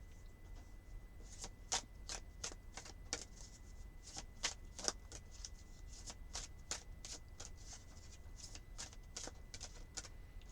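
Tarot cards riffle and snap in quick bursts, a run of sharp crisp flicks repeated over and over, close and clear with no talking.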